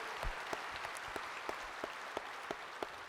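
A church congregation applauds during a worship service after a choir and orchestra performance, with steady, fairly faint clapping and a few sharper claps standing out.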